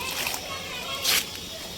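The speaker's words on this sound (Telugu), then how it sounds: "అలా ఒక బకెట్ వాటర్ పోస్తూ ఇంకొక బకెట్ ఇందులో ప్లెయిన్ వాటర్ యాడ్ చేస్తున్నా" Water from a bucket splashes in a quick, fairly loud gush while watering garden plants, set against a steady background of talking.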